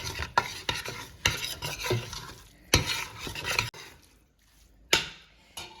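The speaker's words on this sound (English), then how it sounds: "I'm just going to mix that in with the meat" Meat being stirred with seasoning in a pot for chili: a run of scraping, clattering spoon strokes against the pot, some loud, with short pauses and a quiet gap before a final sharp scrape.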